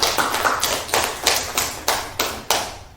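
Scattered applause for Ibu Ellen at a school teachers' session, about eight sharp, separate claps in an uneven rhythm, close and fairly loud.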